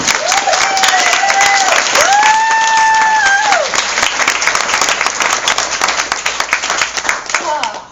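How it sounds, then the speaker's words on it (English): A crowd applauds with steady, dense clapping throughout, while a voice or tonal sound rises and falls over the top. "if you'll please give a round of applause to Laura Lockie"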